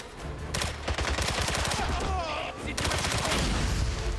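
An MP7 submachine gun in James Bond 007 Bloodstone fires in sustained rapid bursts, a dense rattling stream of close, loud shots with a brief pause midway before the firing resumes.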